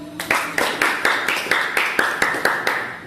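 A group in a classroom claps in unison for a presenting team, giving about eight sharp, evenly spaced claps in a steady rhythm, close and clear.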